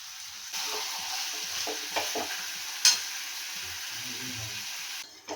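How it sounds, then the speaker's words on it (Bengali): Prawns sautéed with spices, onion and tomato in a pan, a steady sizzle with intermittent stirring scrapes and a sharp clink of a utensil partway through, ending in a short rustle. "আমি চিংড়ি মাছটাকে মশলার সাথে পেঁয়াজ টমেটো দিয়ে কষিয়ে নিলাম।"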